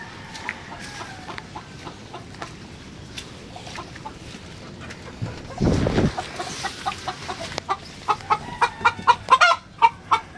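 Chickens on a farm cluck and crow, with a run of loud rhythmic clucks building toward the end over a busy outdoor background, fairly near.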